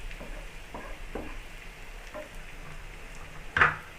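Vegetables sauté in a pan while being made ready for homemade Indian-style egg noodles, giving a steady soft sizzle with a few scraping stirs and one sharper clatter near the end.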